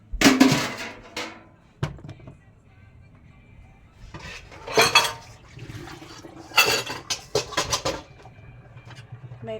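Pots, pans and cutlery clank and clatter in intermittent bursts during after-dark kitchen cleaning, with brief sounds of running water between the bangs; a voice speaks faintly at times.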